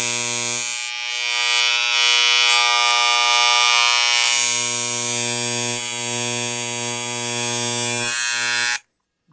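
Older model Wahl CMCO electric hair clippers running after repair, a loud steady electric buzz with a strong hum, near and continuous, fluctuating slightly in strength before cutting off abruptly.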